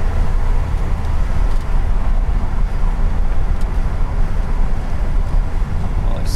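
A 1981 Chevrolet Corvette cruises at about 45 mph, heard from inside as a steady, loud, low engine and road rumble that holds evenly throughout with no breaks.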